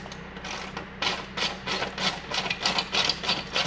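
A washer and nut being turned onto a bolt by hand during a Jeep JLU install, giving a run of quick, close metallic clicks and scrapes that repeat in short bursts.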